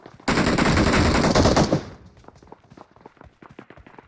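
Gunfire in the mobile battle-royale game PUBG Mobile, reportedly a pump shotgun: a loud, dense burst of blasts lasting over a second, then scattered softer clicks and impacts.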